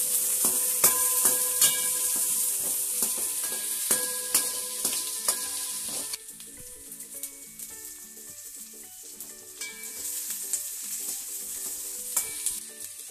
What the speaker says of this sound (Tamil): கருவேப்பிலையும் போட்டு, பச்சை மிளகா கருவேப்பிலையும் போட்டுக்கணும். வதங்கணும்.